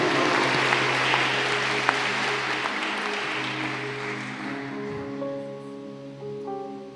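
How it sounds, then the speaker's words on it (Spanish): A church congregation applauds in a broad wash of clapping that slowly fades, while sustained tones from instruments or a keyboard hold underneath and continue as the clapping thins out. "Dale un aplauso al Señor."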